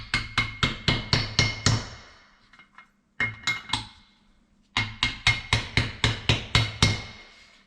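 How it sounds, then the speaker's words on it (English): A hammer taps on a socket set against an engine valve in a cylinder head, sharp metallic strikes in quick even bursts of around seven, each ringing out with a bright tone, with short pauses between runs. "You always hear the cylinder head start to ring."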